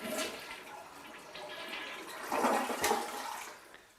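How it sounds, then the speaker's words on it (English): A household toilet is flushed up close, a rushing swirl of water building then draining away over a few seconds, heard alone without talk. "Then you want to flush your toilet."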